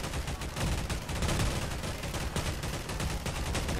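Dense, continuous gunfire from a cops versus robbers firefight in Garry's Mod, with rapid overlapping shots sustained and loud throughout, with no talk.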